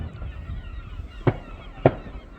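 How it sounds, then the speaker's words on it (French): Two fireworks burst a little over half a second apart during a July 14 celebration in Saint-Pierre, each a sharp distant crack over a steady murmur of crowd and ambient noise. "Des feux d'artifice."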